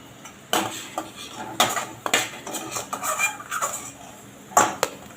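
Fried paneer being lifted out of a pan onto a plate, with sharp metallic clinks and scrapes of a utensil against cookware, several distinct knocks over faint background noise.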